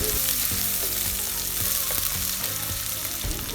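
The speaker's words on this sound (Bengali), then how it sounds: "কড়াইয়ে আরেকটু তেল দিয়ে আধা কাপ পেঁয়াজ কুচি দিয়ে দেব।" Onions sizzle loudly and steadily in hot oil, with occasional scraping as they are stirred in the pan.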